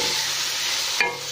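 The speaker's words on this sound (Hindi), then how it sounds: "अब थोड़ी देर इसके टमाटर को फ्राई करेंगे।" Tomatoes frying in a pan for a cauliflower and potato curry, a steady close sizzle with a brief clatter of stirring near the end.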